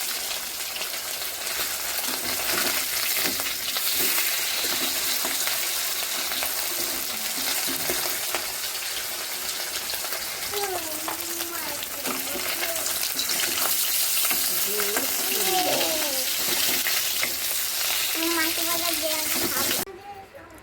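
Pabda fish sizzles steadily in hot oil in a pan, a loud continuous frying hiss with scraping and clinks as the pieces are turned, ending abruptly near the close.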